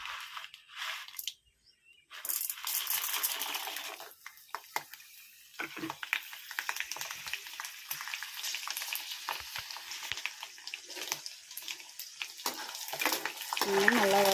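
Chana dal, urad dal, peanuts, fenugreek and garlic frying in oil for tamarind kuzhambu, a close crackling sizzle with repeated stirring scrapes and a brief quiet gap near the start.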